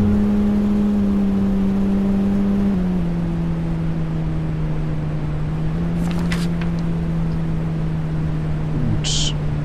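A car in the zombie survival game No One Survived hums along at a steady engine drone, the pitch stepping down as it shifts and holding even, with brief faint clicks and a high squeak near the end.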